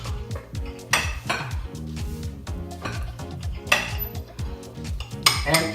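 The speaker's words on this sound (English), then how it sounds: "we're going to cut the frittata, of course. And you cut it like a pizza." A frittata being cut into wedges on a plate, with repeated clinks and scrapes of cutlery against the dish at close range, with no talk over them.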